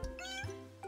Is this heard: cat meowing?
yes